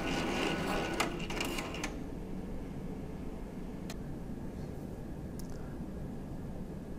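Entrust Datacard CR805/CR825/CE875 card printer running a cleaning card, a steady low mechanical hum with a few sharp clicks and brief whirring bursts early on, then a quiet continuous drone.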